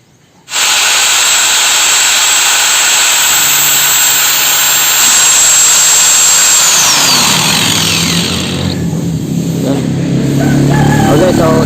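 Loud, continuous roadside traffic roars past at close range, a steady rushing hiss of passing vehicles that swells and shifts throughout.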